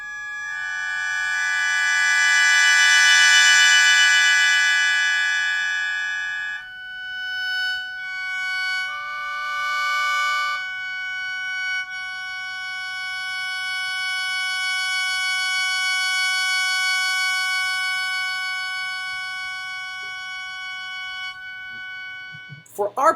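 A Japanese sho mouth organ sounds sustained, shimmering note clusters, loud and alone, the chord swelling and shifting as reeds drop in and out before settling on a thinner, open harmony.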